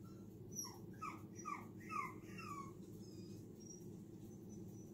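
A dog whines and whimpers in a short series of high, wavering cries, eager to go outside, heard indoors over a steady low hum.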